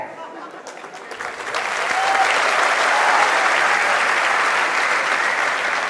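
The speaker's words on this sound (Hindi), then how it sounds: "देख लो कितने सारे लोगों की आवाजें आई है।" A crowd of audience voices responds together, swelling into a loud, sustained collective shout that holds for several seconds.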